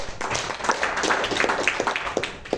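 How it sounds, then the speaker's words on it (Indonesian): Scattered audience clapping at a business event in Indonesia, a steady patter of individual claps filling the room, moderately loud and without talk. "Beri aplaus."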